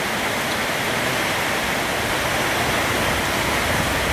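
Steady, dense roar of heavy rain pouring down without a break in Chiang Yuen district, Thailand, loud and close, with no voices.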